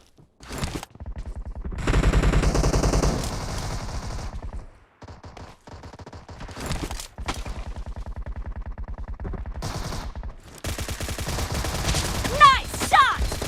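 Bursts of suppressed Beryl M762 rifle fire in a PUBG Mobile team deathmatch, used with a 6x scope: loud rapid volleys separated by short silences, with game voice cues and other effects between them.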